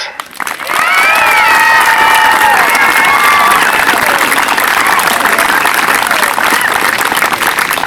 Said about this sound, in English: If you give one more big round of applause for our incredible crew of instructors